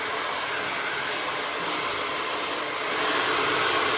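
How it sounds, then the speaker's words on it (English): A handheld blow dryer drying hair during an at-home salon-style blowout gives a steady, close, continuous whooshing whir that grows slightly louder near the end. "I can set down my blow dryer on the counter."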